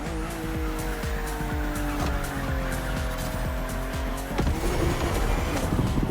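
A BMW M CSL races in The Crew Motorfest, its engine revving hard through repeated gear shifts while tires squeal and skid, loud, close and continuous throughout.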